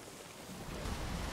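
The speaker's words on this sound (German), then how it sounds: "das sind die Wellen" Ocean waves in the pirate sailing game Sea of Thieves make a soft, steady, washing rumble that swells slightly partway through, with a windy hiss and no speech.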